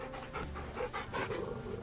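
Close, rhythmic panting from a dog being petted in Final Fantasy 16, quick breathy huffs repeating steadily and alone.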